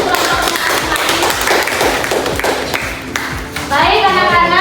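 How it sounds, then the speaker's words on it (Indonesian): A school biology class of students clapping for their groups, heard as loud, dense clapping close by with children's voices mixed in, then chatter and shouts near the end. "Tepuk tangan untuk kelompoknya masing-masing"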